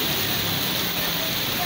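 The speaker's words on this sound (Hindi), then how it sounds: "और बहुत तेज़ बारिश है इस टाइम।" Heavy stormy rain pours down in Karachi, a dense, steady hiss that fills the short stretch without a break.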